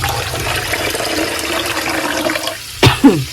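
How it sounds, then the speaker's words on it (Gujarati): Water draining off poha rice flakes as they are rinsed at home, a steady near rush of pouring water that cuts off toward the end, followed by a couple of short splashes. "જો આ રીતનું પાણી કાઢી નાખવાનું એકવાર અને પાછું સારું પાણી લેવાનું"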